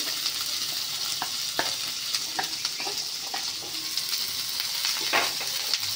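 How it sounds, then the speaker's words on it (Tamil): Butter sizzling as it melts on a hot dosa tawa, a steady close frying hiss with scattered soft pops and crackles throughout, no talking. "கொஞ்சம் வந்துட்டு பட்டர் போட்டுக்கலாம். கொஞ்சம் மெல்ட் ஆகட்டும்."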